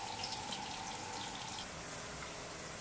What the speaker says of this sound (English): also hear the flow of water